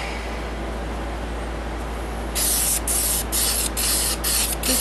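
A spray gun lays the first finish coat onto a wood-turned platter. A steady low hiss runs throughout, then turns into brighter, louder bursts of spraying in a row of short pulses, close up, with no talking.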